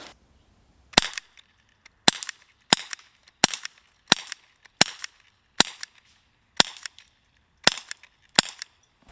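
Eleven sharp pistol shots from a Sig Sauer SP2022, fired at a steady unhurried pace with short crisp reports and quiet gaps between them.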